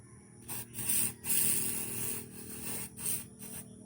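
A handheld sprayer hisses in several bursts on a farm, separated by short pauses, loud and close with no talking.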